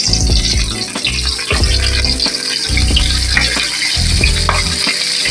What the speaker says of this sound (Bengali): আমি তেল গরম করতে দিয়ে দিয়েছিলাম, তেল গরম হয়ে গেছে। এবার আমি পটলগুলোকে এর মধ্যে ছেড়ে দেব।